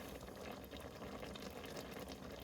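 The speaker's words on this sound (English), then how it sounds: "let it simmer on medium-high heat" Kimchijjim simmers on medium-high heat in a pot, giving a faint, continuous bubbling and hiss with no voices.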